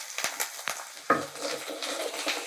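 Small fish with fried chopped onion and salt being stirred in a pan, giving a few light utensil scrapes and clinks against the metal amid soft background noise, no talk.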